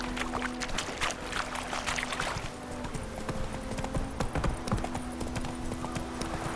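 Geralt's horse Roach gallops in The Witcher 3, a steady run of hoofbeats clopping close and loud over continuous outdoor ambience, without a pause from start to end.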